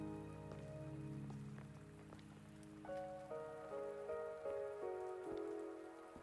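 Steady soft rainfall patters in the video game Wuthering Waves, a faint continuous hiss beneath sustained melodic background music, with no voices.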